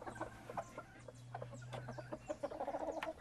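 Polish chickens cluck softly in their pen, giving short, scattered clucks and murmurs close by, with a steady low hum in the background.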